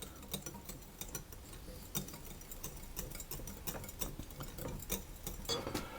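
A spoon stirs gelatin into an egg mixture for raspberry mousse, making quiet, irregular ticking clinks against the bowl that repeat steadily throughout, close by, with no talking.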